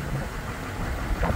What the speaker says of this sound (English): As you can hear, Duramax runs super smooth.